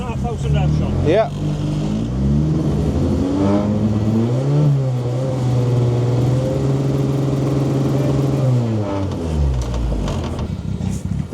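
Nissan Micra rally car engine revved repeatedly during a noise-control test at scrutineering, loud close rising and falling revs in several long sweeps, with a brief voice near the start.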